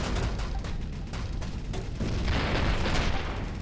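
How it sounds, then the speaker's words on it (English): Spaceship guns firing in Avorion: continuous rapid cannon fire, a dense rattling fusillade with booming thumps, steady and close throughout the short stretch, with no talk. "I should be technically burst firing this other gun, but our other ones can fire continually."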